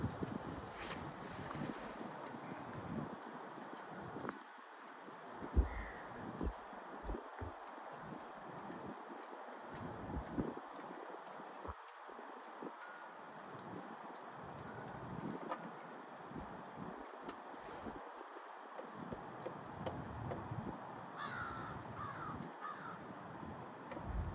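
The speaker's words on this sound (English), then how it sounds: "Crows in the distance." Crows caw off and on in the distance outdoors, the calls faint and scattered over steady wind noise buffeting the microphone, with no one speaking.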